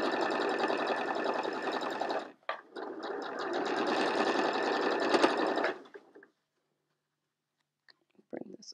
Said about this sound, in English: let's stitch this seam up